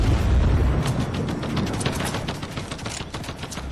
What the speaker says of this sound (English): You see the turret? When you hear it shooting, that means he's gone on it.